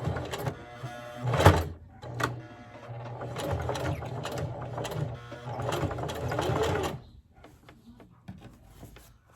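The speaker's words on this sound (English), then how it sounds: "I'm gonna back stitch this corner as well" A sewing machine back stitches the corner of a skirt waistband in a run of close, steady mechanical whirring bursts with short pauses between them, and a sharp knock near the start.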